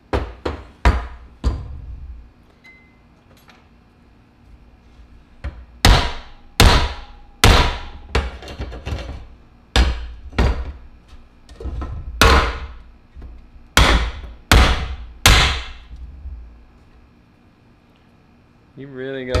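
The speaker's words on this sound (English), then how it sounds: "We've hit it with hammers." Hard hammer strikes on a carbon fiber bicycle frame during a durability test, a dozen or so loud sharp impacts in irregular clusters, close up, with quiet gaps between bursts.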